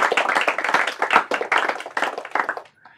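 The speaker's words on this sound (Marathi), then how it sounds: "जोरदार टाळ्या त्यांच्यासाठी पण." An audience at a Marathi quiz round claps for a team in a lively burst of many hands, close and loud, before trailing off into quiet.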